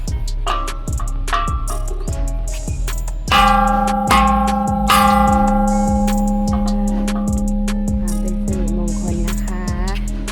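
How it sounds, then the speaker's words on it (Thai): A temple bell is struck at a Buddhist temple on Ko Samet, Rayong, Thailand. A loud strike rings out into a long, sustained metallic hum, with a second strike and scattered knocks and ticks around it. "เคาะระฆังค่ะ"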